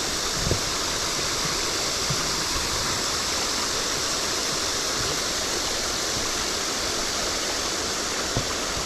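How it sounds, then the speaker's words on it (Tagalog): Strong floodwater current rushes steadily through a fishpond, a loud, continuous broadband roar of flowing water with no pauses, close by and uninterrupted for the whole stretch. "Malakas ang agos no?"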